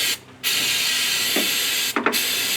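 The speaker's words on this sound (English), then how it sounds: "I'm going to spray some cleaner here and try to get as much of the gunk off" Two bursts of aerosol cleaner hiss loudly up close onto a grimy 1995 Subaru engine, a long blast then a shorter one after a brief pause, with small clicks of the nozzle.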